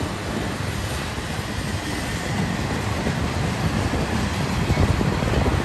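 A BNSF freight train of piggyback spine cars rolls past close by, a loud unbroken rumble and rattle of wheels on rails that swells slightly toward the end.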